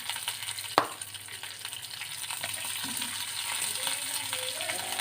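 Cumin seeds, fenugreek and dried chilies frying in a pan for a Kannada-style budukumbalakayi (ash gourd) tambuli, a steady soft sizzle with one sharp clink near the start and light scraping later, no voices.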